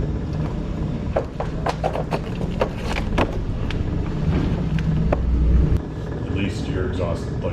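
A 997 Porsche 911 Turbo with a titanium Akrapovič exhaust runs under people talking nearby, a low engine rumble swelling louder toward the end, with scattered sharp clicks and knocks over it.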